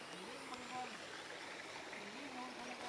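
The Cimawate River in Tasikmalaya flows with a steady broadband rush of water, faint and continuous, while someone speaks quietly over it.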